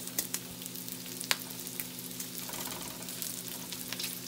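Bacon fries in a pan with a continuous close sizzle and crackle, sharp pops of spitting fat breaking through now and then, and no one talking.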